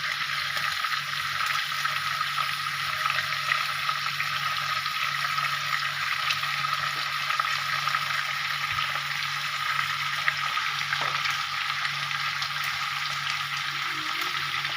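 Ground spice paste sizzles and fries steadily with mutton in a hot pan, a continuous close crackling hiss with a few faint clinks and no talk.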